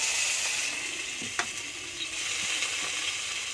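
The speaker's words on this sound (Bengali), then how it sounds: "এবার আলু উচ্ছেটা ভেজে নেবো" Potato and bitter gourd fry in a pan with a steady, bright sizzle, joined by a few soft scrapes and clicks of stirring, close and without talk.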